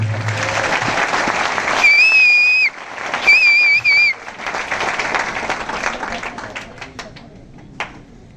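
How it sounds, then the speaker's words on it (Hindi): A crowd applauds loudly and continuously, with two sharp whistles cutting through the clapping before it fades out. "चलो अपने लिए ताली बजाओ।"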